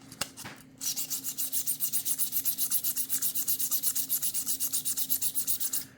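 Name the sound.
hand sanding crazy lace agate knife with sandpaper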